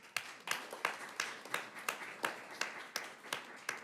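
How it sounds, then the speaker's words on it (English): Audience members at a school board of education meeting give a short round of clapping to honor a retiring executive director, about a dozen evenly spaced, fairly faint claps. "You can clap for her."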